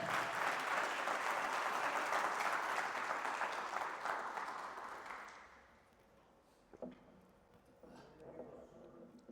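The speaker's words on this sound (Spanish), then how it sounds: "Hoy sí, una ofrenda de palmas." Church congregation applauding during a service, a dense steady wash of clapping for about five seconds that tapers off into quieter room sound with a few scattered noises.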